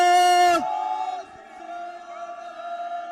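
At a Sikh political party launch, a single loud sustained voice holds a chanted jaikara cry before it drops off, followed by a quieter drawn-out tone from a crowd with a faint echo.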